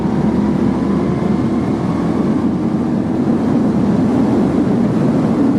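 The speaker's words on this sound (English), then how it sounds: "So a 4th gear pull, let's do passing power." A 2016 Indian Scout cruiser pulls hard in 4th gear from about 60 mph, its engine drone blended with heavy wind roar in a constant, loud, broadband rush with no talking.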